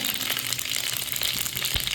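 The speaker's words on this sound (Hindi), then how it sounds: "तेल डाला है मैंने, तो आप डालूंगी राई को, तड़का लगाऊंगी" Crackling, spitting sizzle of mustard seeds popping in hot oil, close and continuous with a few sharper pops, and no one speaking.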